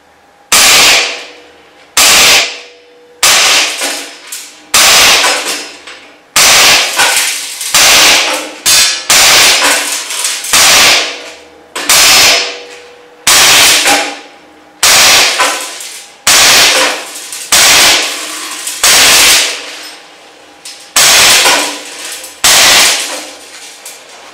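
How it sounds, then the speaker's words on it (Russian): An Umarex Walther PPS gas-powered BB air pistol fired at a target three metres away, about twenty sharp, loud pops in quick rhythmic succession, each followed by a brief ring, close by with no talking. "Отстреливаем ее с 3 метров, просто так, чтобы посмотреть, насколько она точно бьет."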